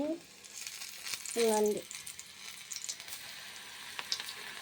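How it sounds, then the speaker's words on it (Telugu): Onion pakodi deep frying in hot oil for an Andhra-style snack, a steady soft sizzle and bubbling close by, with someone briefly speaking over it. "రండి మన పకోడీ మొత్తం ఆయిల్లో ఫ్రై అవ్వాలి కదండి"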